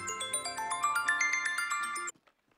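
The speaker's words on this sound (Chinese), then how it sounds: "我接个电话。" Phone ringtone playing a bright chiming melody of rising and falling notes, clear and close, cutting off abruptly after about two seconds, no talk.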